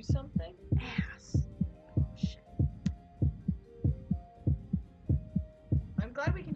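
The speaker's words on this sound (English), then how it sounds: "I'm glad we can hear our heart beating." Steady, loud heartbeat thumping in a regular double-beat rhythm in the video game We Happy Few, with brief scattered noises and voices talking over it at the start and end.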